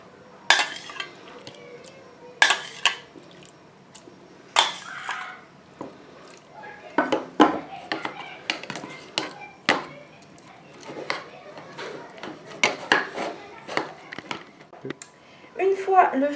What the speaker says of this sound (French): nous allons écraser notre fruit avec 5 cuillères à soupe